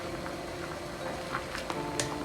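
Jamaican sorrel drink boils in a pot on a flame, giving a continuous low bubbling simmer with scattered small pops and gurgles, fairly close and steady, with no talking.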